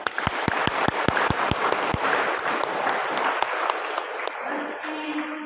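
Congregation applauding at a Catholic Eucharist mission celebration in a parish church: a burst of loud, dense clapping with a few sharp claps standing out, carrying steadily before easing off near the end.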